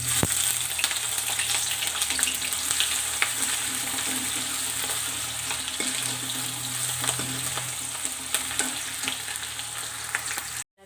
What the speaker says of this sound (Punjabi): ਲਸਣ ਅਦਰਕ ਹਰੀਆਂ ਮਿਰਚਾਂ ਨੂੰ ਆਪਾਂ ਭੁੰਨ ਲਿਆ